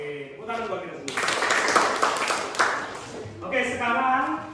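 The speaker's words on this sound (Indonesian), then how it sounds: "tepuk tangan buat kita semua." A group claps hands together in a classroom, a dense burst of applause lasting about three seconds between stretches of a man's speech.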